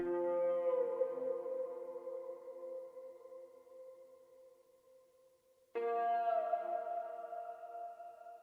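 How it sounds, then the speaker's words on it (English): A dark, sustained ambient pad for a pain-style beat swells and slowly fades, then re-enters suddenly at full level and holds, smooth and reverberant with no voices. "So something that works super good is this pain ambience."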